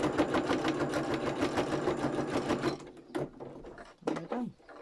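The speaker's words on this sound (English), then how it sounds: "Quickly stitch across the bottom." A sewing machine stitches across a fabric-covered tag in a fast, steady run of needle strokes, then stops; a few short clicks and knocks from handling the fabric follow.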